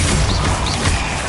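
A Bombarda blasting spell strikes in Hogwarts Legacy, a dense, loud burst of crashing noise and low rumble filling the whole moment amid game effects.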